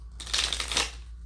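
A short riffle of tarot cards being shuffled by hand, a close, crisp papery flutter lasting under a second with no one speaking.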